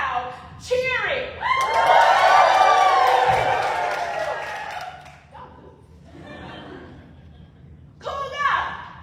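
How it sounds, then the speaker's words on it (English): A crowd cheers and whoops at a morning run, swelling into a loud, sustained roar for several seconds before fading, with scattered shouts and voices around it. "He woke up just in time to hear the sounds of the crowd cheering"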